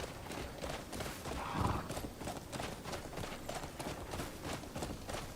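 Horse in the video game Crimson Desert trotting with rhythmic clip-clop hoofbeats, a neigh rising briefly near the start, close and continuous for several seconds.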